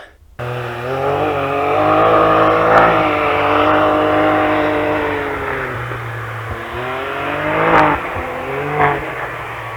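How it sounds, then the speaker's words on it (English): The turbocharged engine of a 2021 Can-Am Maverick X3 XRC UTV roars and revs continuously, rising and falling in pitch as it accelerates, with turbo spool and sharp bursts of exhaust near the end. "I love the sound of that exhaust. The turbo spool up"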